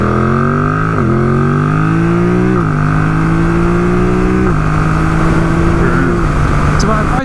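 Yamaha motorcycle with Y-AMT automated manual transmission, engine note stepping down in pitch through several automatic downshifts, steady and close throughout with a clear drone.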